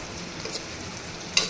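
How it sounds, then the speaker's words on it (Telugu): Fresh fenugreek leaves sizzling in a pan of fried onions for a tomato methi curry, a soft steady frying hiss with a brief stir-like clatter near the end, close and quiet, no talking. "ఉల్లిగడ్డలు వేగినవి. దీంట్లో ఇప్పుడు మెంతెం కూర వేద్దామండి."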